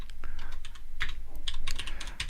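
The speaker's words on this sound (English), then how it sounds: "but I can type it here" Typing on a computer keyboard: quick, close key clicks in a fast, slightly uneven run.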